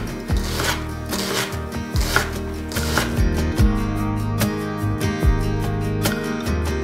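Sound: knife chopping red onion

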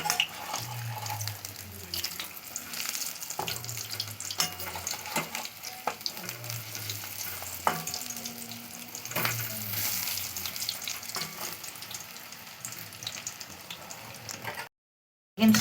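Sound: cauliflower pakoras and begunis deep-frying in oil

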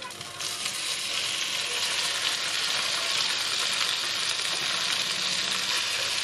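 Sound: tofu frying in oil

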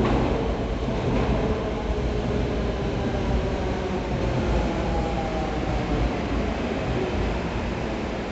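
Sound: train passing

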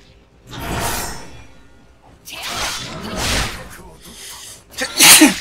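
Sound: sneeze

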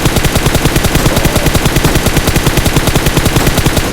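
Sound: gunfire shooting at car tire, video game

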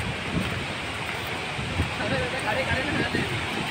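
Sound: cool wind blowing outdoors at a waterfall

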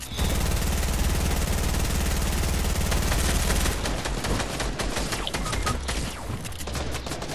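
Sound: shotgun gunfire in a video game

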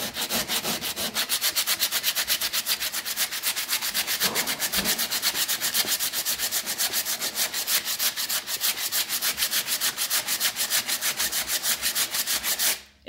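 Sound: sanding wood door trim

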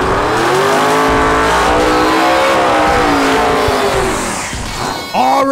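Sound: 7,000 HP drag racing car accelerating

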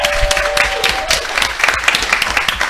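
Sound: applause

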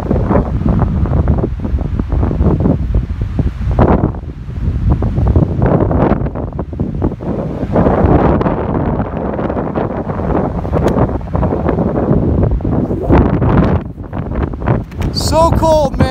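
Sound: strong wind by a lake

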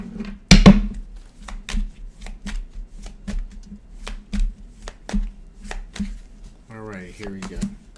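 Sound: shuffling tarot cards

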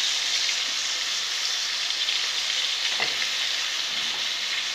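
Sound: onion added to pan, frying

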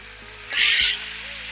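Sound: rice and lentils roasting in ghee

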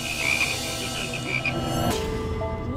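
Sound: live frogs croaking

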